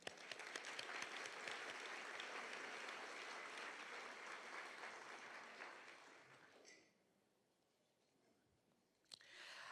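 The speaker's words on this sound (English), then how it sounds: "Let's applaud for Jake once again, please." Audience applause at a business leadership awards ceremony, a steady full wash of clapping for about seven seconds that then fades out, followed by quiet and a brief sharp sound at the end.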